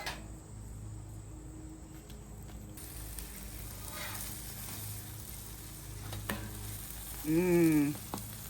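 A Mexican shredded beef quesadilla made with chuck roast sizzles steadily in a pan, a close, even frying crackle with a few small taps and a brief tonal whine near the end.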